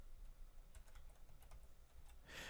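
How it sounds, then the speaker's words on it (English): Quiet, irregular tapping of keys on a computer keyboard, a few clicks in a row with short pauses, faint and close, with no one talking. "I have my typing keyboard behind my MIDI keyboard, so it's a bit clumsy to type right now"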